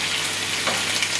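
Beef and rice stir fry frying in a pan, a steady broadband sizzle that holds even and close throughout, with a faint soft clatter partway through.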